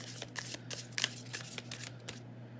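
Tarot cards drawn and shuffled from a deck, soft riffling and papery flicks in quick bursts, close and fairly quiet over a faint background hum.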